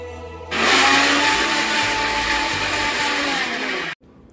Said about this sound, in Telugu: మిగిలిన మీగడని కూడా మిక్సీ జార్లో తీసుకొని గ్రైండ్ చేసుకుంటున్నాను.